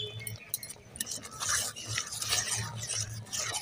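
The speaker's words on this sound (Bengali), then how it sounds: "এইভাবে অনবরত নাড়তে হবে, নাহলে নিচে বসে যাবে" A spoon scrapes and stirs thickened milk in a pan for sandesh, making close, continuous rubbing swishes with soft clinks against the metal.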